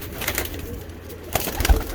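Champion pigeons from a high-flying pigeon stock coo close by with a low, rolling burble, repeating softly over a steady noisy background.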